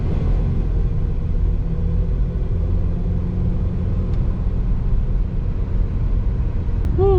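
A van cruises around a neighborhood block, its engine and road rumble droning low and steady from inside the cabin, with a brief tonal whine rising near the end.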